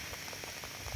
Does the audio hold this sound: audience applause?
no